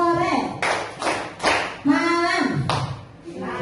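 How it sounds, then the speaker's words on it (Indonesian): Children in an elementary school classroom clap together in a call-and-response clapping game, giving a few sharp, close group claps spaced apart between a teacher's spoken cues. "Tepuk sore 3 kali."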